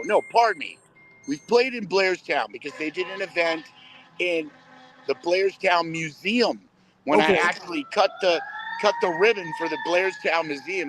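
Police and emergency vehicle sirens wail outside under an interview, rising and falling tones heard faintly behind steady talk and coming through more clearly toward the end.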